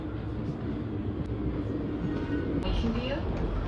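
An S9 S-Bahn train in Austria rolls along with a steady, close rumble and rail noise, a faint squeal rising near the end, and a voice speaking over it.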